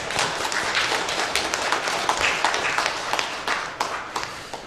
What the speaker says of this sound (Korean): 우리 자신을 위해서도 한번 격려하는 박수 있습니다.